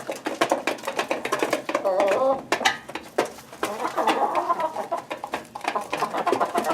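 Barred Rock, Buff Orpington and Partridge Rock chickens cluck and murmur steadily nearby in a homestead yard, close and fairly loud, with a person talking over them.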